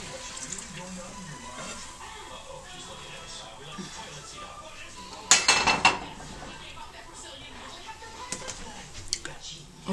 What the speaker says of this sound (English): We will flip it onto our presentation plate.